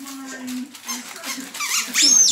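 Squeaky dog toy from a Christmas present squeaking in short bursts under a person's voice, ending with a louder, brighter squeak.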